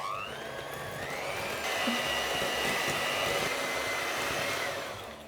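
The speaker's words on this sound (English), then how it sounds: "We're going to mix this now for a couple of minutes until it gets nice and soft and fluffy." An electric hand mixer beats butter and sugar together for an apple traybake batter, a steady close whirring drone that rises slightly in pitch and holds for several seconds before easing off, with no talking.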